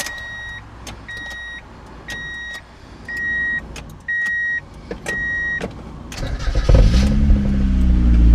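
A car fails to start, probably because of a faulty starter or starter solenoid: about six short clicking pulses with a warning chime, then the engine cranks and catches with a rising rumble, heard close up.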